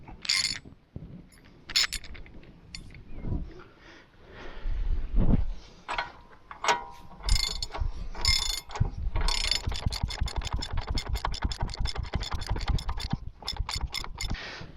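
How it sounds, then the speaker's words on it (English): A small ratchet tightens a bolt on the axle of a 2012 Chevy Equinox, starting with scattered metallic clinks and handling noises, then rapid close clicking strokes of the pawl in steady bursts. "so we'll torque this down with our small ratchet."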